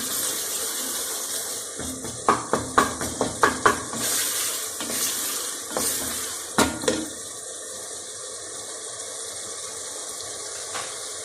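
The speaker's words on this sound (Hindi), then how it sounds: "अब अच्छी तरह मसाला भून लो, टमाटर हमारे मिक्स हो जाए।" Tomato masala for a cauliflower and meat curry being fried and stirred in a pan, with a steady sizzle and a quick run of clinking spoon-on-pan scrapes and taps, close and moderately loud, with no talking.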